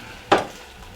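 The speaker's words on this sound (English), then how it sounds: "we're going to throw it into our saute pan" Malaysian laksa ingredients hitting a hot saute pan, a single sharp burst of sizzle that quickly dies down to a faint background hiss.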